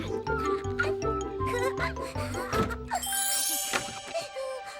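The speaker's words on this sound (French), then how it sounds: "Voilà la sonnerie et voici ma grande surprise." A bell rings out in a bright, tinkling chime, with several overlapping ding-like strikes across the clip against a busy musical background, fairly loud and close.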